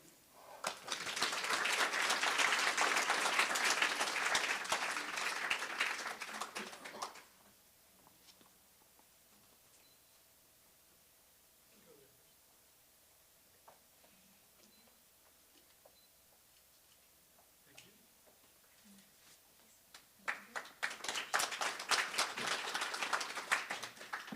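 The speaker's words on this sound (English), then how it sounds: "Let's give a warm round of applause" An audience at the 2024 Behavioral Health Community Heroes Awards ceremony claps loudly for several seconds. A quiet stretch follows with faint room noise, then a second burst of applause rises near the end.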